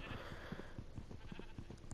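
Sheep in Minecraft bleating repeatedly in short, evenly spaced calls, soft and close with no talking.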